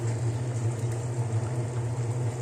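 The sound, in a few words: rohu fish curry with pointed gourd boiling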